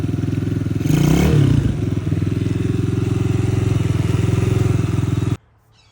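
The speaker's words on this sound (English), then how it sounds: "It clicks into gear. It doesn't go anywhere, even in reverse." A Chinese ATV with a faulty clutch idles steadily up close, a brief clattering clunk marking the shift into gear before the engine cuts off abruptly.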